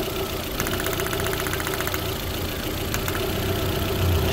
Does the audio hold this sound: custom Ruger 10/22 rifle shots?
no